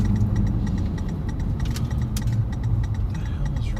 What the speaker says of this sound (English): What the hell is wrong with my blinker lights